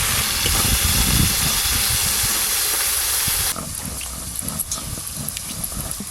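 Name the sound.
small fish frying in a pan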